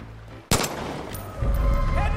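Loud gunfire in the video game Far Cry 5: a sharp close shot bursts out after a brief lead-in, followed by sustained rattling fire and game noise.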